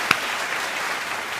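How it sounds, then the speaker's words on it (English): Audience at an awards show giving a round of applause, steady dense clapping from a crowd, with one sharp louder clap near the start. "Let's give Michelle a big round of applause, everybody."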